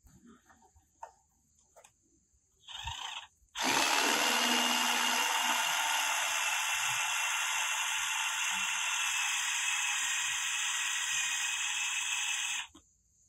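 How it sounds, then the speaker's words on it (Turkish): A drill bit grinds a stripped screw on a motorcycle round, a steady loud high whine running about nine seconds after a short test burst, with faint handling noises before it. "burada yalama olan vidayı öncelikle bu gösterdiğim uç ile iyice yuvarlak haline getireceğiz."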